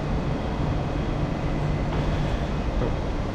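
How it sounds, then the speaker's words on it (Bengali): A Bangalore metro train stands at a station platform with its doors about to close, giving a steady loud rumble and hum for a few seconds with no speech. "আমি মেট্রোর একদম গেটে কিন্তু দাঁড়িয়ে রয়েছে, দেখুন গেট এখনই লাগবে।"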